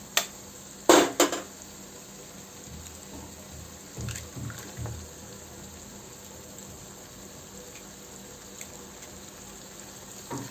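Eggs being cracked into masala in a pan over low heat for egg bhurji, a couple of sharp clacks early on, then soft pan clinks over a quiet, steady sizzle.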